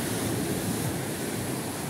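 Waves wash onto a sandy beach in Thailand, a steady close hiss of surf with light wind noise and no talk.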